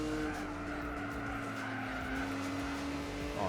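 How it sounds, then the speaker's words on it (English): A car with stock exhaust in Gran Turismo 4 on PS2, a steady droning engine note with tire squeal, held at even loudness throughout. "The stock exhaust actually sounds much better."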